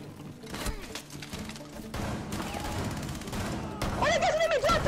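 Gunshots in Rainbow Six Siege, a steady dense volley of game gunfire with thuds, continuous and fairly loud, with a faint voice in the mix.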